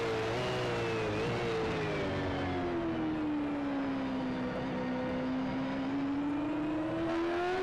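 Race car engine at Phillip Island Circuit, a steady high drone whose pitch sinks slowly and then climbs again as the car holds speed through a long bend, loud and continuous with nothing else over it.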